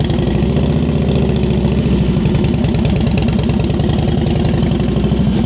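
A motorcycle engine idles and putters at low revs through slow-speed riding practice in Ohio, a steady close rumble with uneven, slightly knocking pulses and no talk over it.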